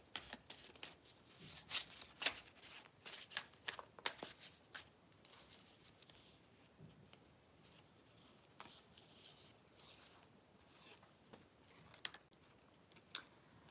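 Tarot cards shuffled for a twin flame reading, giving faint, quick papery riffles and soft ticking flicks in irregular bursts with a few sharper snaps, quiet and close, with no talk.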